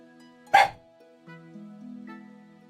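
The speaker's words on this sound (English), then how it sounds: "Quiet, dog, please." A dog gives a single sharp bark close to the microphone, cutting in over soft, sustained background tones.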